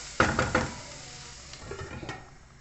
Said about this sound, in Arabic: كنبقاو نحركوها بحال هكا باش ما تحرقش